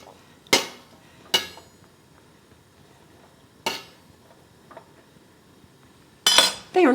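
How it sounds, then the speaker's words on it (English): Vegetables tipped into a pot of beef stew being prepared for pressure canning, landing in a few sharp clinks and clatters spaced seconds apart, with a louder rattling burst near the end. "What we do next is add all of these vegetables in."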